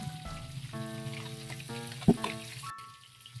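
String beans (sitaw) fry in a pan beside catfish, a close, steady sizzle with a sharp pop partway through, heard alone with no talk.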